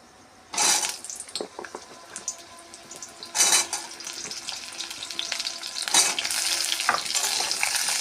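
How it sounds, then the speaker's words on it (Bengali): Pointed gourd pieces drop into hot oil in a wok, each batch setting off a loud burst of sizzling at roughly three-second intervals before settling into a continuous close crackle of frying. "কড়াই গরম হয়ে গেছে, পরিমাণ মতন তেল দিয়ে আমি পটলটা ভেজে নেব আগে।"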